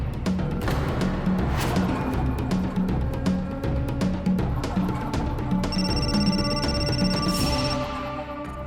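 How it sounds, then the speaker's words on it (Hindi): A telephone bell rings in repeated bursts inside a home, set in a Hindi crime drama. The rings keep a regular pattern over a busy background, and a brief electronic tone appears near the end. "समधी जी का फोन।"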